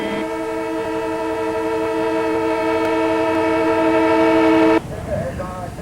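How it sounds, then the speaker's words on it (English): A train horn sounds a long, loud, steady tone for several seconds, then cuts off, leaving rumbling rail noise. "This train is about to leave."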